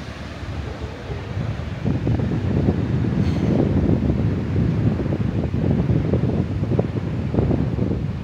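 Steady, very cold wind rushes and buffets the microphone on a beach in Vendée, France, a continuous low roar with gusty swells and no voices.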